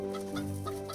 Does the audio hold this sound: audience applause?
no